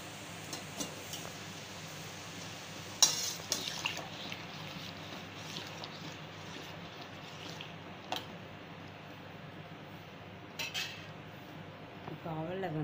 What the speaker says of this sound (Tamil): அடி பிடிக்காமல் அதை கலருக்கோங்க.